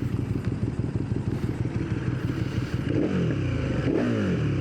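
2024 KTM 1290 Super Duke GT twin-cylinder engine with an Akrapovic slip-on exhaust, a loud, close, lumpy idle throb that rises into revving blips near the end.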